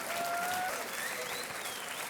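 Studio audience applause on the Indian quiz show Kaun Banega Crorepati, a dense, sustained wash of clapping at steady volume, with a faint tonal music sting rising over it.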